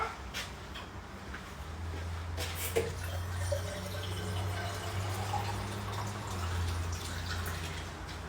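Water runs from a kitchen tap in a steady low stream, with a few faint drips and clinks near the start, no talking.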